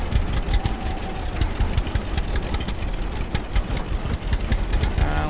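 Tractor engine running in the Farmer's Dynasty farming game, a steady mid-pitched idling drone with rapid knocking pulses throughout, fairly loud and close, with no talking.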